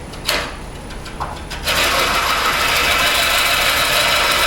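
A wood lathe coring a big bowl blank on its low speed pulley: a couple of sharp knocks, then the machine settles into a loud, steady whirring drone that carries on unbroken.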